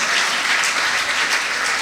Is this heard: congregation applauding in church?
yes